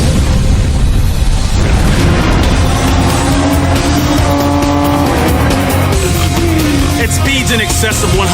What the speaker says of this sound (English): 25 custom-built Porsche 911 GT3s race in the Wright Patton Shakespeare Carrera Cup.